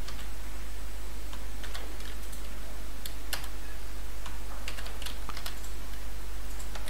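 Someone types code on a computer keyboard, with scattered, irregular key clicks over a steady low hum, fairly quiet and with no voices.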